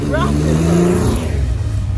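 A home-built car with no number plate revs and pulls away, its engine drone strong and steady across the whole moment, while people speak excitedly over it.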